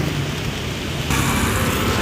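Rain falls in a steady, close hiss that swells noticeably louder partway through, with no one speaking.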